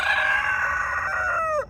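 A farm rooster crowing close and loud, one sustained crow held steady before dropping off sharply at the end, with no voices.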